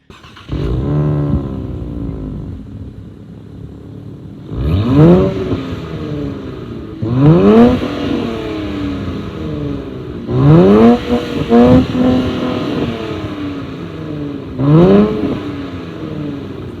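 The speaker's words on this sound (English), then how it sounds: "We get dual exit exhaust from that 3-liter twin-turbo V6 that makes some pretty good noises." A Nissan Z NISMO's 3-liter twin-turbo V6 blares through its dual exit exhaust in several loud, rising revs, each climbing sharply before dropping back to idle, with no talking.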